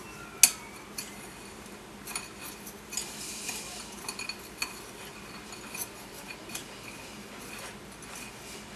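Borax and powder for homemade laundry detergent stirred together in a bowl: quiet scraping with scattered light clinks and taps of the utensil against the bowl, fairly faint and irregular.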